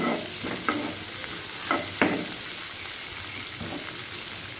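Spices and potato roasting in a pan for potato paal curry give a continuous close sizzle, with a few stirring scrapes scattered through it and no talk.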